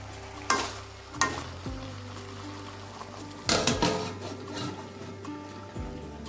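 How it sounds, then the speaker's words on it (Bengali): Chicken fries in a pan with little oil and spice, its close sizzle broken by several sharp scraping stirs and a clatter as the lid goes on. The sizzle then carries on at a lower, steady level. "আমি মাংসটাকে 3 মিনিট মতো কষিয়ে নিয়েছি। এবার এটাকে ঢেকে দেবো।"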